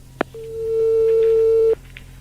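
On a telephone line while calling another extension, a short click is followed by a single long steady tone lasting over a second, loud and close, then another faint click.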